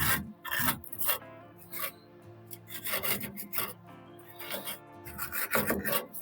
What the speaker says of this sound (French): Maintenant, je peux dévisser les vis, les écrous plutôt.